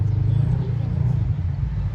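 Jeep driving off-road through deep terrain, a low rumbling engine drone heard from a distance with people talking over it.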